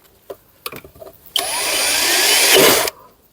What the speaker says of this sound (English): I'm actually going to drill another hole so it is more offset at the back